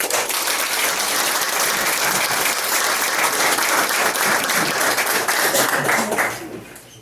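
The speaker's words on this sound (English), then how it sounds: "let's give our new chief a big round of applause" A room full of people applauds a new police chief at a June 2023 introduction, with loud sustained clapping that ends abruptly near the close.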